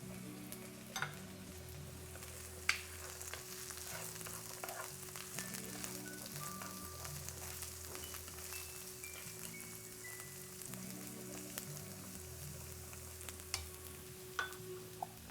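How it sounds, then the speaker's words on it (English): Carrots and French beans frying in a pan for fried rice, a steady soft sizzle with occasional sharp crackles, alongside a faint background tone, with no voices. "We're gonna go in and add in our carrots and our French beans."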